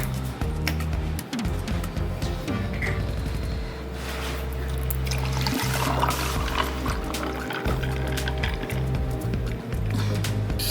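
Clamato juice pours into a glass for a spicy Caesar, a steady liquid glug and trickle running close and fairly loud over a low background hum, with no talk.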